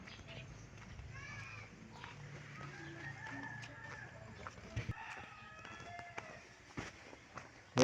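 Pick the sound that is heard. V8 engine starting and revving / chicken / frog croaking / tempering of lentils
chicken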